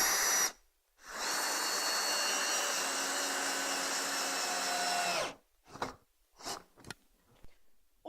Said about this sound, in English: take the wooden screws and pop those into the 4 pilot holes that we've drilled around the edge of our frame